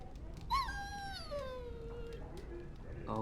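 A dog whines in Dragon Age: Origins, a single drawn-out, wavering whimper that slides downward, fairly close over a faint game background.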